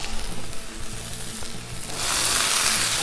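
Vegetables frying in oil on a hot surface, a steady dense sizzle that swells louder partway through as more oil hits the pan, close and continuous with a low background hum.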